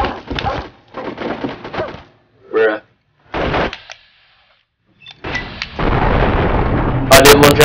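A Chinese pistol fires in Fallout 3: several short bursts of shots separated by pauses and a near-silent gap, ending in a louder, denser stretch of sharp reports.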